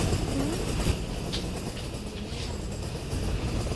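A train rolls along in a train-driving video game, giving a steady, close rumble with a faint hiss and a few light clicks throughout.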